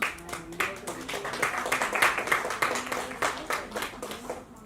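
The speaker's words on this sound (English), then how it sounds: "I would like to give a big hand of applause for my dear soul sister, Dr. Pooja Verma." Scattered clapping from an audience at a wellness and spiritual awards ceremony, a moderate burst of hands with some voices mixed in underneath.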